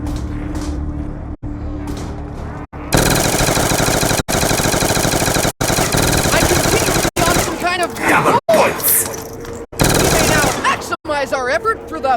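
Rapid automatic gunfire from Call of Duty Black Ops 2 Zombies roars in loud, dense bursts separated by short gaps, after a quieter opening in which a voice talks over game sounds.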